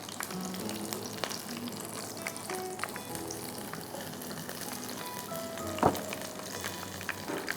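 Chops frying in hot oil on a stove give a steady, close sizzle with crackles and occasional sharper pops throughout, loud and with no voices.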